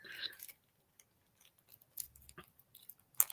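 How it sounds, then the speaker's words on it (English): Small mini scissors from an advent calendar being handled indoors, a few quiet clicks and light snipping sounds scattered among soft rustles, close and faint. "Mini scissors."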